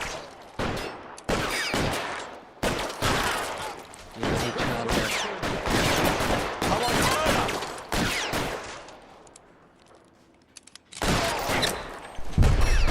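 Gunfire from an L.A. Noire shootout comes in repeated loud bursts and single cracks, close and heavy, with short pauses and a quieter stretch before the shooting resumes.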